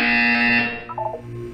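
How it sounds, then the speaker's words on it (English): A loud electronic buzzer from the video game Portal 2 sounds as a sustained harsh tone, then breaks into a few short pulsing beeps before a lower steady hum continues, with no talk. "When you hear the buzzer, look down at the floor."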